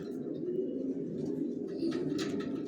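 Racer pigeon babies cooing in a loft, low murmuring coos overlapping steadily, with a few brief rustles or chirps toward the end and no voices.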